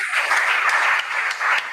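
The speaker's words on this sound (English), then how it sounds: "Give them a round of applause" An audience at a school quiz contest applauds, steady close clapping filling the whole short stretch with no talk over it.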